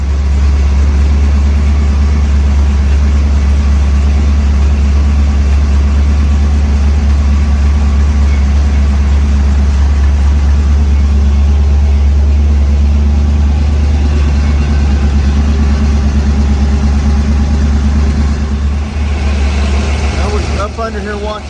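A 1937 Chevy engine idles steadily and loud, its low constant rumble holding for the whole stretch with little change, close to the microphone.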